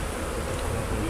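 A dense, steady buzz of many honey bees at an open hive during a spring inspection, close by, continuous and loud with no voices.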